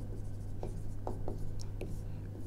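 Pen or pencil writing notes by hand during a maths lesson on hypothesis testing, a few brief scratchy strokes at close range over a steady low hum, with no talking.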